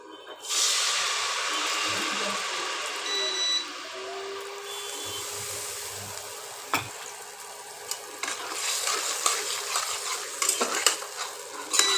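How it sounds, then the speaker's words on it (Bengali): Mustard, poppy seed, yogurt and chilli paste hitting hot oil in a wok for a fish curry, a loud burst of sizzling that settles into steady crackle with scattered utensil clinks. "এর ভেতর সর্ষে, পোস্ত আর টক দই আর লঙ্কা বাটা দিয়ে দিলাম কড়াইতে।"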